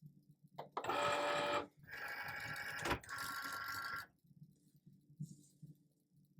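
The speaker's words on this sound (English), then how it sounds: "It's going to load it into the cutter." A cutting machine loads a label sheet with two bursts of mechanical whirring and rattling feed motor, separated by a sharp clack, then quiet clicks and faint handling noise.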